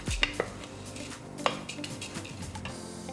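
Slivered almonds and a big pinch of salt tossed together in a bowl, giving a few sharp clinks and scrapes followed by a soft rustling shuffle, close and fairly quiet with no talking.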